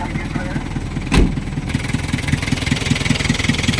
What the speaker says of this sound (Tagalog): Ito yung engine. Engine ng 4GG ito mga kabusing.